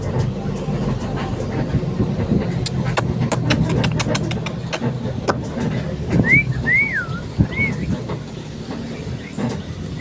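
A person makes a few short, wavering whistle attempts near the middle, faint and thin against a background of clattering, rumbling noise.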